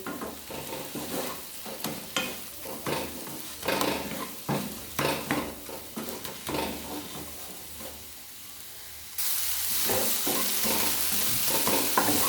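Red amaranth greens with a little sugar are stirred and fried in a pan, giving repeated close scraping strokes over a sizzle that swells into a steady loud frying hiss near the end, with no talking.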